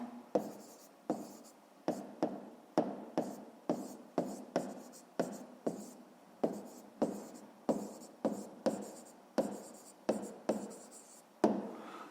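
Close, steady pen-on-paper writing of an answer to a fifth-grade math problem, a rapid rhythmic series of short scratching strokes and taps running throughout, with no voices.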